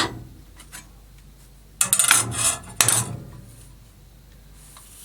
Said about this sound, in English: push down on the lever clamp